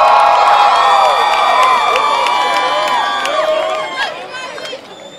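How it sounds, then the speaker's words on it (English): A graduation audience for the Class of 2012 cheers, whoops and shouts for the standing graduates, with a loud, sustained crowd roar near and all around that fades slightly toward the end amid scattered high-pitched calls. "Wave to your family and give them a cheer because they love you."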